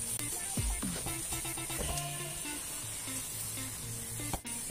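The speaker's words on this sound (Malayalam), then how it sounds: "ഫ്ലെയിമിൽ വെച്ച് തന്നെയാണ് നമ്മൾ ഇളക്കി കൊടുക്കുന്നത്." A jackfruit mixture with cardamom and sugar being stirred in a pan over a flame gives a soft sizzle under scattered clinks and scrapes of a utensil against the pan, fairly quiet and close.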